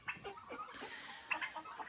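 Young roosters clucking in a poultry enclosure, several short calls scattered closely over the span at moderate loudness, with no speech.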